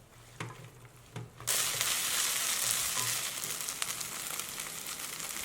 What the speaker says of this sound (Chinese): 再加2勺黄豆酱， 翻炒均匀之后，我们倒入茄子，